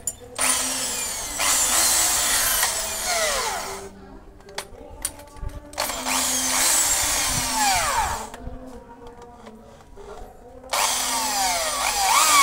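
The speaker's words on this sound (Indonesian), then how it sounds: "Sekarang saya mau mencoba kepala bur baru ini menggunakan mata bur ukuran 12 mm. Dan saya mau mengeburkan pada sebuah kayu" A Maktec electric drill with a 12 mm bit bores into wood in three loud bursts of roughly three seconds each, with quieter pauses between them, close up and without talk.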